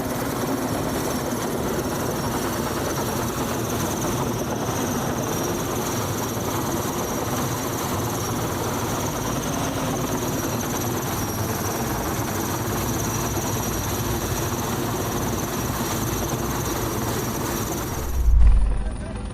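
A helicopter hovers while joining two pylon sections in Manitoba, Canada, its rotor and engine droning steadily and loudly throughout, a constant thumping roar, with a brief bump of noise near the end.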